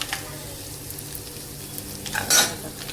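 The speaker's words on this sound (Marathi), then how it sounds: "त्याला फिरून घेते मिरचीला." Three dried red chillies sizzle and fry in hot oil in a pan while being stirred, a steady soft crackle broken by scraping spoon clinks and one louder stir near the end.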